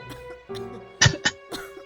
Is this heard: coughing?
yes